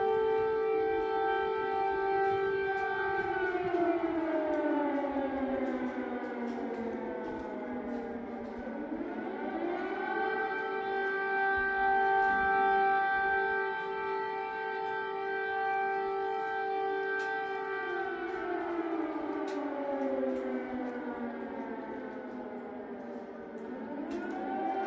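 An air raid siren in Ukraine wails on and on, its tone sliding up, holding steady, then sinking before rising again in long, loud cycles that fill the whole stretch with no voices.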